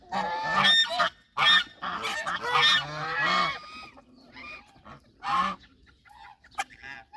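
Ducks, geese and chickens squawk and honk noisily at feeding time, loud overlapping close calls in bursts, with a person's voice calling among them.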